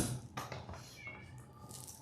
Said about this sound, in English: Sorry, you can hear my cat meowing.